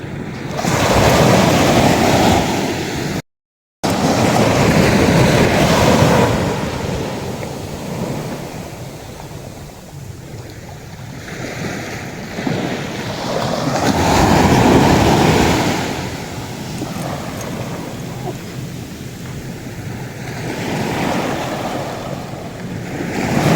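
Ocean waves surge and wash in a continuous roar, swelling and easing in slow cycles, with gusty wind buffeting the microphone.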